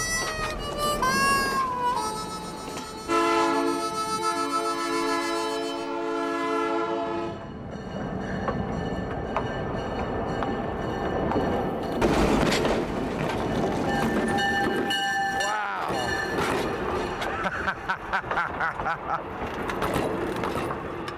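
A train engine rolls past on railway tracks, with a long horn blast at the start and then a continuous loud rumble of wheels clattering over the rails, squeals cutting through now and then as the cars go by.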